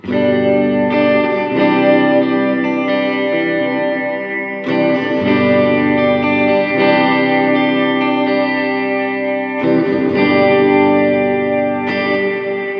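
Sustained guitar chords ring out through a Biyang RV-10 Tri Reverb pedal on its Hall setting at 100% wet, each strum blooming into a long, washing tail that blends into the next.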